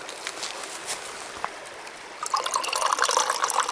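Water trickles and then pours steadily into a Stanley cup, the splashing growing brighter and louder toward the end.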